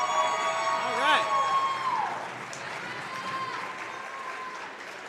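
Spectators at a Division III women's basketball game, TLU versus St. Thomas, give a sustained round of applause for the student athletes. The clapping forms a steady crowd wash beneath an amplified voice and tonal sounds.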